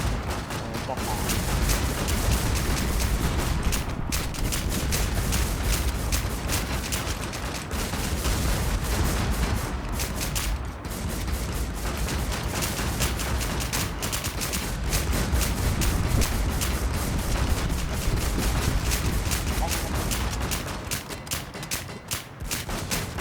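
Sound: gunfire in a video game

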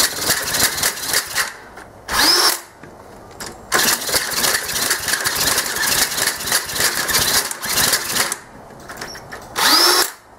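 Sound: 49cc Yamaha Riva scooter engine starting and running

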